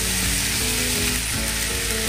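Corn kernels fry in a pan as part of making tamarind dal, giving a steady, dense sizzle with fine crackling that continues without pause throughout.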